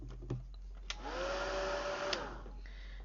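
A heat tool blows briefly to heat-set an alcohol ink panel, a steady whirring blast of about a second and a half with small clicks before and after.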